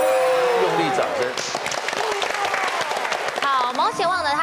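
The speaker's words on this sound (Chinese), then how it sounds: "用力掌声" Studio audience on a Taiwanese TV variety quiz show applauding loudly and steadily throughout, with voices and a presenter talking over the clapping.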